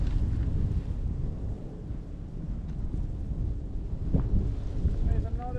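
A wind gust buffets an outdoor microphone during a solo pilot seat session, a continuous low rumbling roar that swells slightly, with a brief voice near the end.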